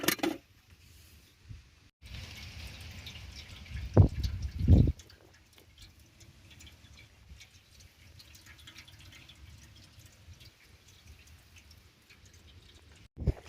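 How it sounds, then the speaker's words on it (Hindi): Water runs from a flowing outdoor source into a bucket in the Mirzapur hills, a faint, steady trickle with a couple of louder splashing bursts partway through and no talking. "पानी भरते हुए दिखाते हैं कैसे पानी भरते हैं।"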